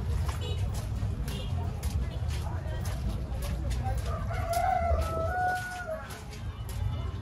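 A local village chicken crows and clucks amid a busy outdoor scene, moderately near, with people chattering in the background throughout.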